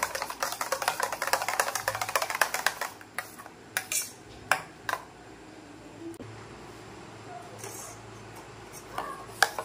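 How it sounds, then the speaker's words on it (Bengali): Litchi ice cream mixture being stirred in a bowl, with a fast run of light clinking spoon strokes against the bowl that then slows to scattered, sharper taps, fairly close and unaccompanied by speech. "এবার এটা ভালো করে গুলে নেব।"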